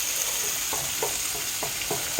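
Cheddar cheese smoked sausage sizzles in olive oil in a pan, a steady close hiss with faint rhythmic stirring scrapes, no voices.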